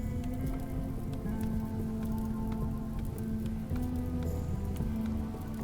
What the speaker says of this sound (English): And at the last second, the rain began to fall.